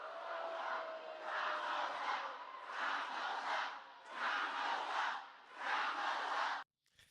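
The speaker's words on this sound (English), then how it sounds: "other members of the crowd then drown them out by loudly chanting her name" A crowd at a political speech chants loudly in repeated rhythmic bursts, each swell rising and falling with brief gaps, sustained and fairly distant before cutting off abruptly near the end.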